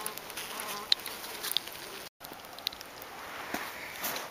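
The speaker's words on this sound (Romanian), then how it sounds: "un zgomot mai consistent de albine" Honeybees buzz in a steady, moderately loud drone around an opened hive as a pollen patty is set in, with a few individual bees flying close past and no talk.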